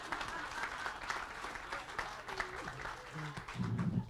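An audience applauds at the grand opening of a teen center, moderately quiet clapping that runs throughout, with some background voices and murmur mixed underneath.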